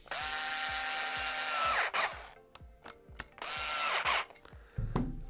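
Screws being driven into a kydex appendix holster, a ratcheting whir in two long bursts with clicks and handling knocks between, close and alone.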